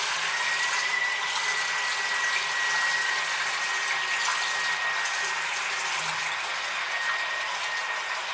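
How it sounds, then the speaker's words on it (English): Parts of a Panasonic KX-TG4031 cordless phone rinsed under hot running water, a steady close rushing stream with a faint constant tone, continuous and unbroken with no talking. "we are going to rinse the parts into the hot water"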